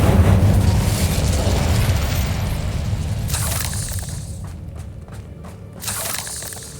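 An Incendio fire spell cast in Hogwarts Legacy gives a loud, heavy burst that decays over several seconds, with crackling, popping debris at the tail.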